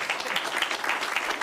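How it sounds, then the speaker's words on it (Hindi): A studio audience at a comedy roast show claps for Yasir Shami in a brief, steady, moderately distant burst with no talking over it. "तालियां बजाओ यासिर शामी के लिए"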